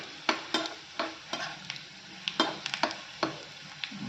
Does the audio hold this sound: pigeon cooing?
no